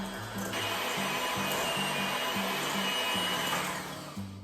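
An electric hand mixer whirs steadily while creaming cookie dough ingredients for chocolate chip cookies, a continuous loud motor drone with a low pulsing hum running the whole time, fading slightly near the end.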